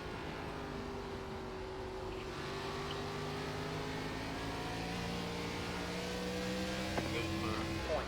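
An ARCA stock car engine in iRacing at Nashville Fairgrounds holds a steady, droning roar, rising slowly in pitch as the throttle comes on, loud and continuous from the cockpit with a faint click near the end.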